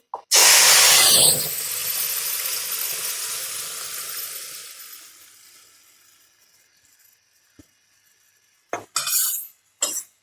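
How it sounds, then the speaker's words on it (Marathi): Turmeric being stirred into a sprouted mixed-bean curry in a pot, opening with a loud hissing burst that fades into a long softer sizzle, followed by near silence and a few sharp utensil clanks at the end. "आता इथे मी थोडे हळद आता हे ही व्यवस्थित मिक्स करून घेणार आहे"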